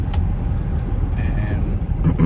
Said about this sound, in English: So here we are going highway speed, and it's driving like nice and steady, solid, no shaking